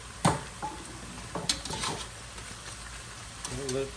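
Chicken stir-fries in a pan, a low sizzle under intermittent scraping and clattering of a spatula against the pan, close up, with a faint murmur of speech near the end.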